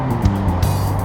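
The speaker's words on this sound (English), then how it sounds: "Perfect braking." A Dualtron Thunder electric scooter braking hard during a performance test, fitted with NUTT brakes with radiators, giving a loud continuous whine with a rising tonal squeal and rumbling road and wind noise, no voices.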